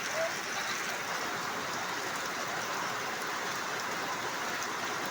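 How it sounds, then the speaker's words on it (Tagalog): Heavy, steady rain with local flooding pours down in a dense, continuous hiss, close and loud throughout with no breaks. "Hindi biro ang ulan oh."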